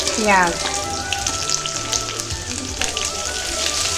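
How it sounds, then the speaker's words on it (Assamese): Sliced onions fry in hot oil in a kadai with dried red chillies, clove and cardamom, giving a steady close crackling sizzle that runs throughout, with a brief rising tone near the start. "পিঁয়াজখিনি দিয়াৰ পিছত পিঁয়াজখিনি অলপ ৰঙচুৱা হোৱালৈকে ভাজি লৈছোঁ"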